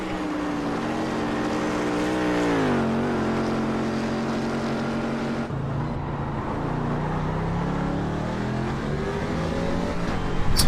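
Race cars at Spa in a GT endurance racing game, engines droning loudly with rising and falling pitch as cars accelerate, shift and pass one another, continuous and close throughout.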